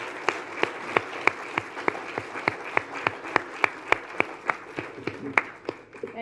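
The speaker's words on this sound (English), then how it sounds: "I think she deserves a bigger applause." An audience at an Anti-Corruption Commission event claps steadily through the whole stretch, with sharp individual claps standing out over a broad wash of applause and no talk over it.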